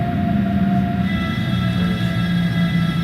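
A DB BR423 electric multiple unit runs along a main line toward Düren in Train Sim World 2, giving a loud, steady rolling rumble with sustained whining motor tones that continue unbroken throughout.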